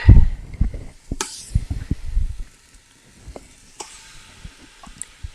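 Pork pieces for kalua pig browning in an Instant Pot, with close sizzling and hissing plus knocks and scrapes as they are turned, loud at first, then a quieter steady fry.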